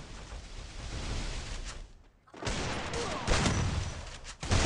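Bursts of gunfire in the mobile battle royale game Free Fire, loud clattering volleys that drop out briefly mid-way, then resume in sharper repeated bursts.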